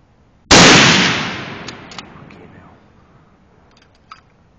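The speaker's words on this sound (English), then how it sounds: "I'm going to go for another shot." A single sharp, loud rifle shot from a .30-06 firing a 130-grain Barnes X bullet cracks close by, its echo trailing off over a few seconds, followed by faint small clicks.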